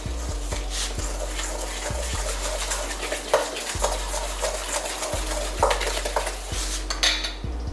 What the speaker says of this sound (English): While we're mixing our oil, we're gonna add 1 teaspoon of vanilla essence.